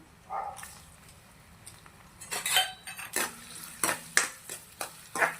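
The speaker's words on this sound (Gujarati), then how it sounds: "આપણે એકદમ તેલના અંદર સરસ સાંતળી કરી દેવાના છે." Chopped ginger, garlic, onion and five green chillies are sautéed in oil while a metal spoon stirs and scrapes the pan, with a soft sizzle under a run of sharp clinks that grow busier toward the end.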